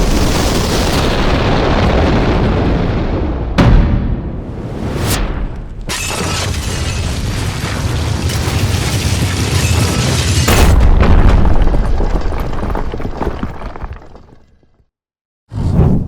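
Rigged fire whiskey and black powder explode in a long roaring blast with whooshing bursts and crackling debris, loud and sustained before it abruptly cuts out near the end.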